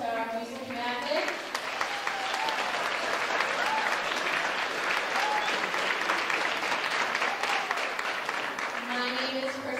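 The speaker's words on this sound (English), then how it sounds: "Let's give a big round of applause to our music magic." Audience applause fills the room at David E. Boody School's 2019 winter concert, a steady dense clapping that runs loud and unbroken for nearly ten seconds, with faint voices briefly at the start and end.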